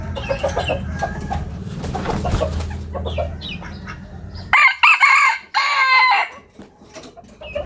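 A rooster named CuBin gulps, then crows loudly and up close in a few strong bursts, after a stretch of rougher, noisier sound.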